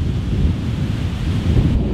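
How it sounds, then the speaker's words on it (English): Strong, gusty wind buffets the microphone on a golf course during a par 3 match, a steady loud low roar with rumbling blasts and no talk. "it's been windy today, but these last 10 minutes, it's just gone ridiculous"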